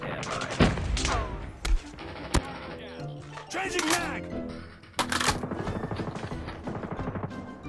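Gunfire in the mobile shooter game Call of Duty Mobile, with sharp shots and rapid bursts scattered through the fight and a dense automatic burst near the end, mixed under excited talking from players.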